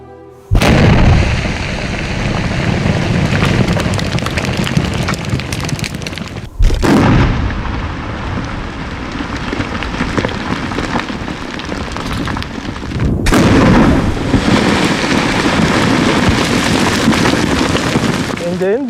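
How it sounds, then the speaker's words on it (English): Explosive rock blasting at an emerald mine in Ethiopia, loud and close: a sudden blast opens a long roaring, crackling rumble, with two more abrupt bursts renewing the din. "They are blasting during lunchtime."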